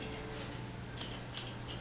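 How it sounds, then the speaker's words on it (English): A few quick, quiet scissor snips close by, trimming a Cavalier King Charles Spaniel's leg fur, light metallic clicks spaced irregularly over a soft background hiss. "you're going to take your scissors or your thinners"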